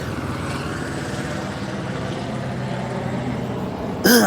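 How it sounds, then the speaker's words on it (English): A helicopter flies overhead, its steady broadband rotor and engine roar filling the whole stretch at an even, fairly loud level, with a brief sharper tonal sound cutting in at the very end. "A helicopter."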